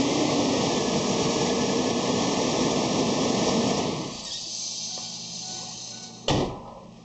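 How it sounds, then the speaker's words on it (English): A Ford Explorer with a crank-no-start fault: a steady electric whine and hum, likely the fuel pump, runs for about four seconds, then drops to a quieter low drone, broken by a sharp click near the end. "There's the fuel pump."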